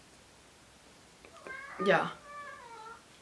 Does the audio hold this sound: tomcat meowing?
yes